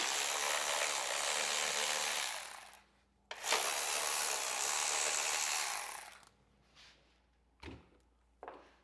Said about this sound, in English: We're going to remove these two bolts.